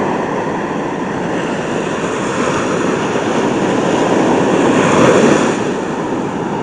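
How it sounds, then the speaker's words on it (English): Big ocean waves roar as a loud, continuous broadband wash with a gentle swell in the middle, heard alone without voices. "Pretty big waves."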